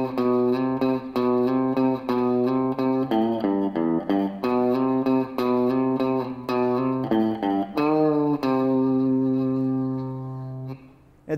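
An electric guitar plays a riff with a half step bend and a slide, sounding through effects: a steady rhythmic run of picked notes, then a long sustained final note that fades, with no talking.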